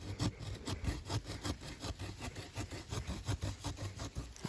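The serrated saw of a Gerber Ultimate survival knife cuts through wood in quick repeated back-and-forth strokes, a rough rasping rhythm close by and fairly quiet.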